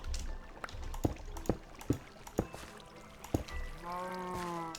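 Water rushing into a Minecraft build as a flood is released, a steady pouring wash with several sharp clicks and thuds over it, ending in a brief rising bubbly tone.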